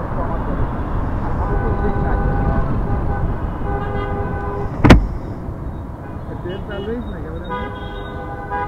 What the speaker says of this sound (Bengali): হ্যাঁ এটা মেট্রো রেল, মেট্রো রেল